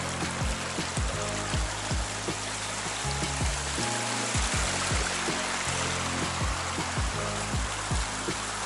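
A steady, close rushing of a flowing stream at Pa Bong Piang, Thailand, fills the clip, with a low musical tune playing underneath.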